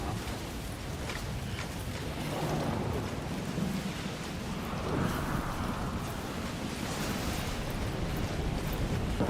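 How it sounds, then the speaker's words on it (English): A heavy thunderstorm in the video game Death Stranding, a supercell with steady rain hiss and deep rumbling that swells in the middle, continuous and fairly loud with no talking. "Totally normal, average thunderstorm."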